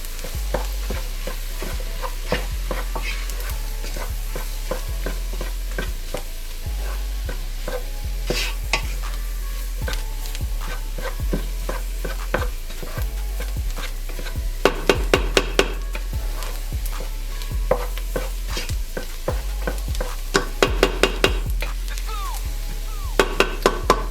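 Flour being stirred into a clam chowder pot, steady scraping and stirring over a low sizzle from the pot, with a few sharper clinks of the utensil against the pot toward the end.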